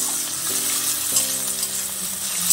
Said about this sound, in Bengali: টমেটোগুলো একটু ভাজা ভাজা করে নেবো।